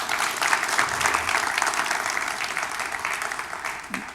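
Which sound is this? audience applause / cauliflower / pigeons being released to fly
audience applause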